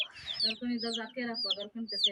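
Chickens cluck nearby in a quick run of short, throaty calls with brief pauses between them.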